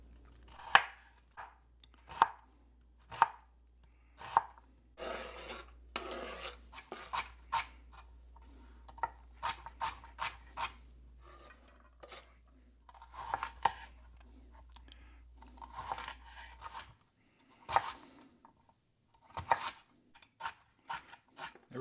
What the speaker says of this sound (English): Time to do a medium chop on all these vegetables, the onions, the celery, and the carrots.